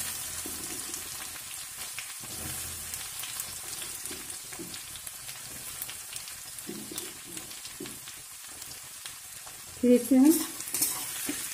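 Onions sizzle in a pan with cumin seeds and two bay leaves as the base of a restaurant-style paneer masala gravy, a steady frying hiss with light stirring and a short spoken phrase near the end.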